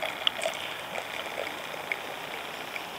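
Homebrewed hard apple cider pours into a glass with a soft, steady trickle and faint fizzing, punctuated by a few tiny clinks and drips, quiet and close.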